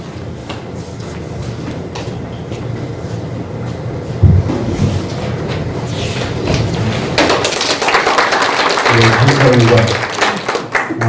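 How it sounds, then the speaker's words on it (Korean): Audience applause at a Korean War POW/MIA remembrance event in Geumsan, a scattered clapping that grows louder and denser partway through, mixed with crowd murmur and talking. "동의하시면 박수 한번 쳐주십시오."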